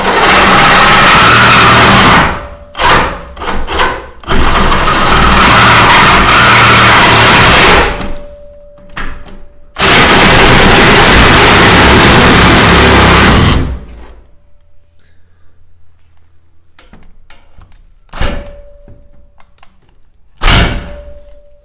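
A saw fitted with a Diablo metal blade cutting through a plastic IBC tote, loud buzzing bursts of cutting broken by short pauses, then quieter intermittent sounds and brief final cuts, with no talk.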